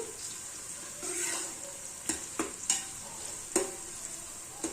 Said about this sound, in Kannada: ಪಲಾವ್ ಎಲೆ ಹಾಕಿದ್ದೀನಿ, ಸ್ಟಾರ್ ಅನೀಸ್ ಹಾಕಿದ್ದೀನಿ, ಮತ್ತೆ ಈರುಳ್ಳಿ ಹಾಕ್ಬಿಟ್ಟು ಫ್ರೈ ಮಾಡ್ತಾ ಇದ್ದೀನಿ